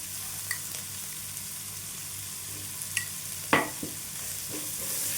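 Ginger garlic paste fries with onions in oil for an egg Maggi masala, a low steady sizzle marked by a few light spoon scrapes and one louder stirring knock, close by and unvoiced.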